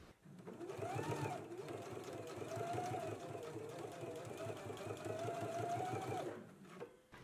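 A sewing machine runs in one continuous stretch, stitching a garment fly in place with a permanent stitch, its rapid mechanical whir steady and close before stopping.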